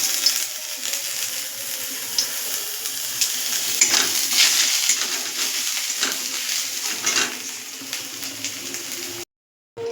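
Grated ginger fries in oil in a pan with a constant close sizzle and light crackling under occasional stirring, then cuts off briefly just before the end.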